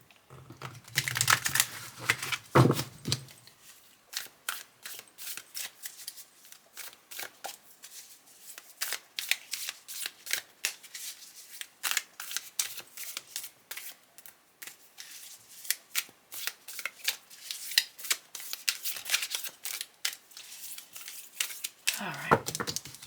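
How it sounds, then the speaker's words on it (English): Tarot cards being shuffled by hand at close range, rapid riffling clicks and flicks in uneven bursts with short pauses, a low voice briefly heard at the start and end. "I'll continue to shuffle a few more times while you concentrate on that."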